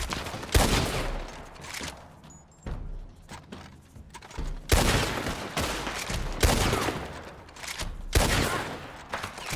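Bursts of gunfire in the online shooter Call to Arms, fired through bushes: several loud clusters of rapid shots separated by short quieter gaps, with sharp broadband cracks and scattered single reports.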